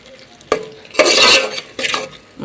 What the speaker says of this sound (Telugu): అది కూడా వేసుకొని అది కూడా పచ్చి వాసన పోయేంత వరకు ఫ్రై చేసుకోండి